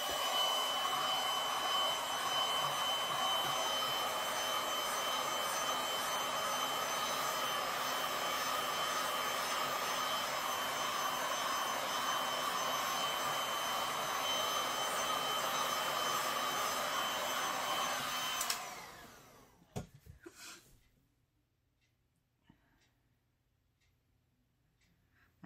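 A heat tool runs steadily over resin poured into flower coaster molds, a loud, even blowing whine close by for about eighteen seconds before it cuts off into near silence with a few small handling knocks.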